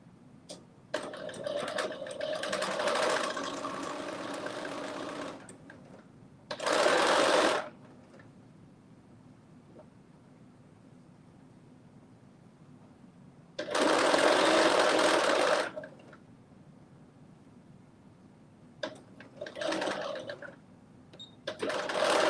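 Sewing machine stitching fabric in several separate runs of rapid mechanical whirring, each a few seconds long, with quiet gaps and faint handling between bursts.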